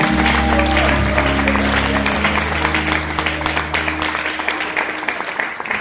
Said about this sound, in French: Applaudis s'il te plaît.